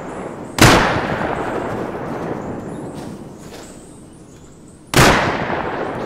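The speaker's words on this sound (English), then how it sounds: "who's shooting with the sniper?" Sniper rifle shots in the video game Rust: two loud, sharp cracks about four seconds apart, each followed by a long echoing tail, with no talking.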